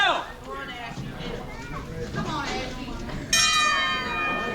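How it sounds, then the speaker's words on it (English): A boxing ring bell clangs sharply once at a wrestling show, ringing out loud over crowd noise and a voice, its bright tone hanging and decaying after the strike. "Ring the bell!"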